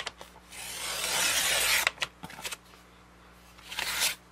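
Paper from a calendar back being cut to size for a triple tag trifold craft, giving a dry rasping, scraping stroke of about a second and a half, then short scratchy bursts and a final brief rasp, close and fairly quiet.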